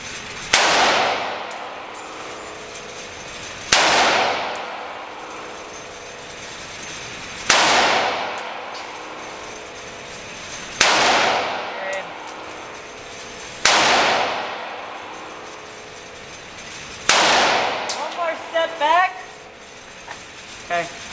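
Gunshots ring out at a machine gun shooting range, about six single loud bangs spaced a few seconds apart, each with a long ringing decay, plus a few smaller knocks near the end.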